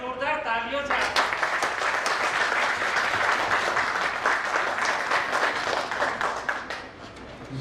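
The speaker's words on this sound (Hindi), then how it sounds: "एक बार जोरदार तालियों से" A full, dense burst of applause from a poetry recital audience for the poet, steady and loud for several seconds, following a brief spoken line at the very start, then easing slightly near the end.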